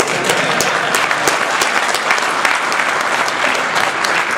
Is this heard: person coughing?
no